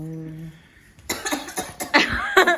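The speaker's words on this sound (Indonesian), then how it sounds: "Iki batuk." A person coughs several times in a row, sharp, loud bursts close to the microphone, following a quieter stretch with a faint tone.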